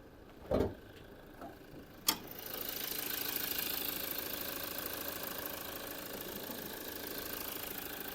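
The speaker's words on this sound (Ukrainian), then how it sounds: "Зараз відкрию підкапотний простір, покажу роботу двигуна." After two sharp clunks, a 2.2-litre D-4D diesel engine in a 2014 Toyota RAV4 settles into a steady, close idle with a low, even mechanical chatter.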